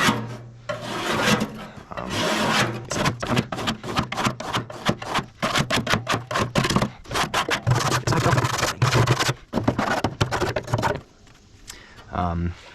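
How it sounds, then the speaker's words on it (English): A scraper rasps ash and dust off the inside of a Pit Boss pellet smoker barrel, loud close strokes repeated in a quick uneven rhythm for most of the stretch, with a pause near the end. "take the scraper and then scrape the ash and the dust off the inside of the barrel"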